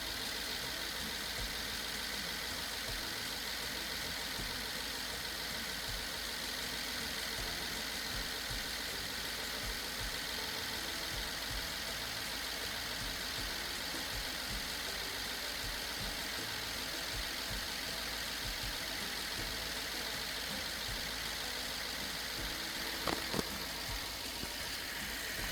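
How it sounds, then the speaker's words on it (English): Rebuilt BMW engine idling steadily, a constant even hum with no knocking or misfire, heard fairly quietly and continuously for the whole stretch with no talk. "The engine's running, it's not misfiring, it doesn't make any noises, no knocking noise"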